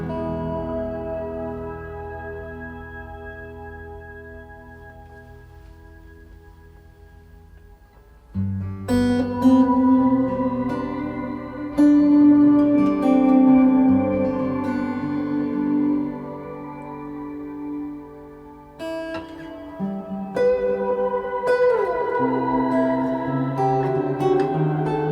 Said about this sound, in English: This is called shimmer.